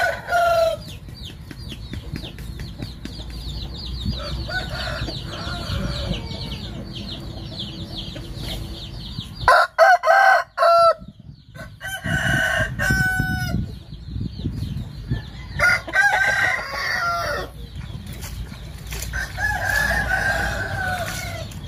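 A grey rooster weighing 2.7 kg crows again and again at a chicken farm in Vung Tau, loud and close, with clucking and other fowl calls between the crows.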